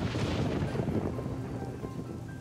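Steady rain in the strategy video game Northgard, a dense wash of falling water with a low thunder-like rumble beneath it, heard alone without talk.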